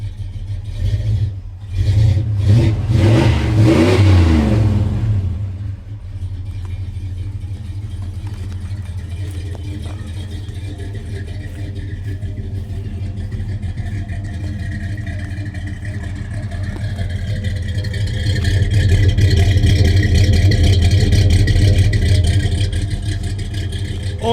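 A 1978 Ford F-250 truck engine idles after a cold start, opening with a brief loud rev and clatter, then settling into a steady low rumble that swells slightly toward the end, close by and without talking.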